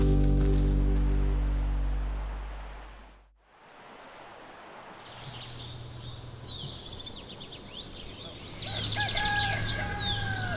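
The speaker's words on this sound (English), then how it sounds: "You hear the rooster?" On a peaceful morning at a boat anchorage in an ocean bay, a faint rooster crows twice in the distance over a steady hiss of water and surf.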